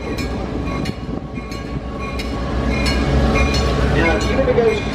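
Heritage train on the Santa Cruz line, heard from on board: a steady low rumble of the rolling cars with occasional clicks and clanks, growing louder toward the end, with a voice talking over it.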